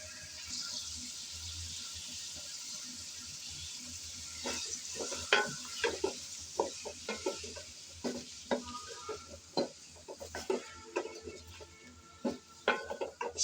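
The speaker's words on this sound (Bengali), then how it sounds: "এখন আমি নেড়েচেড়ে সামান্য লবণ দিয়ে ফুলকপি ভেজে নেব।" Cauliflower pieces fry in hot oil with a little salt while being stirred, giving a steady sizzle broken by irregular scraping and clinking strokes from the spoon against the pan, close and alone.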